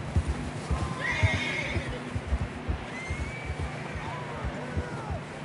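Horses gallop with rapid clip-clop hoofbeats and loud neighs and whinnies in the Red Dead Redemption 2 video game, set against outdoor ambience.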